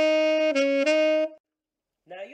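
Alto saxophone plays a short melodic phrase from a reggae song, a few sustained notes with slight articulations, then a brief pause before another note begins, solo and close.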